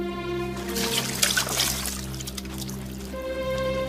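Water is poured out in a steady, continuous stream for several seconds, its soft rushing splash sitting over a sustained tonal background hum.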